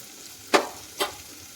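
Two quick sizzling bursts, about half a second apart, as greens are stirred and fried in a pan for bassaru (soppu sambar). The kitchen is otherwise fairly quiet.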